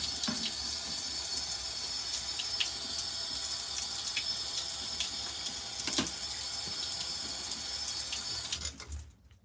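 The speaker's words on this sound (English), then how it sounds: "Let me just rinse that off." Water runs steadily from a faucet as something furry is rinsed under it, a continuous close splashing rush with small clinks and knocks, cutting off abruptly at the end.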